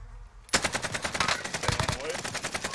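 Automatic gunfire in Call of Duty Warzone, erupting suddenly into a dense, loud, rapid string of rifle shots that continues to the end, with a voice briefly heard under it.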